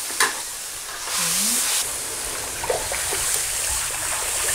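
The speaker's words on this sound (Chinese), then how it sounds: "加点猪油，猪油炒的香的" Food stir-fried with lard in a wok, a steady close sizzle with scraping stirs and small clinks of the utensil against the pan.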